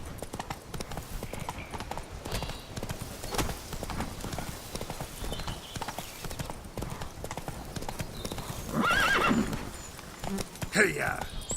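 Roach, a horse in The Witcher 3: Blood and Wine, clip-clops along at a steady pace, hooves thudding continuously near and clear, with a brief whinny or snort near the end and a voice speaking over it.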